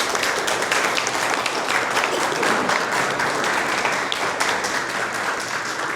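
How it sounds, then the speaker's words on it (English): Town hall audience applauds for several seconds, steady crowded clapping in a large room that stays even and fades only slightly at the end. "can we give these guys a round of applause"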